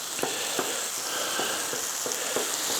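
Lea & Perrins Worcestershire sauce sizzling on a griddle with meat: a continuous close crackling hiss broken by light, regularly spaced scraping taps.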